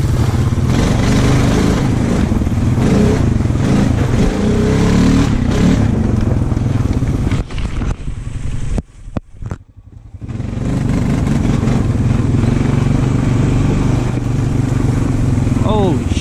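Two Honda ATVs, a 420 and a 300, on an overgrown woodland trail, engines droning and revving continuously up close, with a brief dip in the noise midway; a rider talks over the engines.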